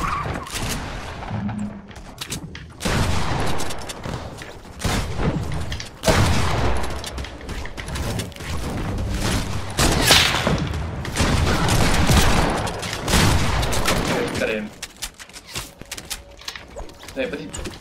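Dense bursts of gunfire and booms in Fortnite Battle Royale, including shotgun blasts, loud and continuous for most of the stretch while a player talks over it.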